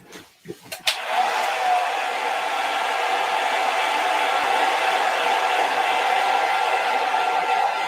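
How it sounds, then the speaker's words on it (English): A hairdryer switches on after a few clicks and blows steadily, a loud close whooshing hiss with a faint whine that holds for several seconds. "Give that a little blast with the hairdryer."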